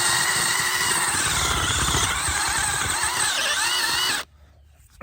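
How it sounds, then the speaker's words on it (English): A loud power auger whines and grinds steadily as it bores a dirt hole in soil for a coyote trap set, cutting off abruptly near the end. "we're gonna go ahead and drill our dirt hole back out"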